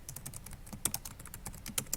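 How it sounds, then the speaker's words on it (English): Typing on a computer keyboard while writing a Google Drive document, a quick irregular run of soft clicking keystrokes close to the microphone, with no talk. "so now I can start typing away."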